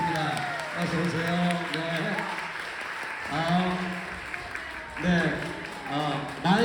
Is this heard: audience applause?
yes